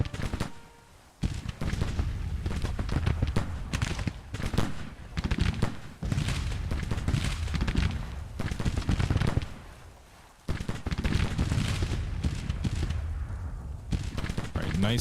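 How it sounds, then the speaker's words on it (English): Artillery and musket fire roar in a Grand Tactician: The Civil War battle, with dense, continuous volleys and booms that break off briefly before resuming, loud throughout. "B's artillery, is in action."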